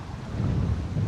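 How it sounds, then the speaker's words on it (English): Gusty wind buffets a microphone beside a bass-fishing pond, a dull, rumbling low roar that swells and dips across a brief moment with no voices. "Oh yeah, way too windy."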